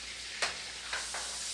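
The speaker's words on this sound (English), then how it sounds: "So the first thing I'm going to do is throw in the chicken" Chicken fries in a pan with a stick of butter, giving a faint, steady sizzle broken by a few brief sharp crackles or stirs.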